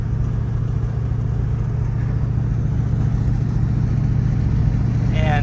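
A 1938 Ford coupe engine on a drive in Florida, a steady low rumble with road and cabin noise, constant and close throughout.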